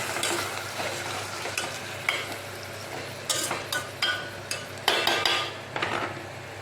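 Something being stirred and fried in a pan after being washed four or five times, with a steady sizzle and repeated scraping strokes of a utensil against the pan, close and without talk.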